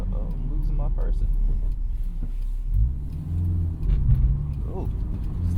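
A Honda S2000 AP1 four-cylinder engine pulls hard at full throttle on a curvy road, a steady loud drone that climbs in pitch with a rising revving sweep partway through, close and continuous under the driver's talk.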